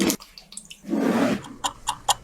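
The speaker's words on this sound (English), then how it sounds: "Pour water into the Nesquik can." Water poured into a Nesquik can for a frozen dessert, a broad splashing pour lasting under a second, preceded and followed by a few light clinks and taps, close and fairly quiet.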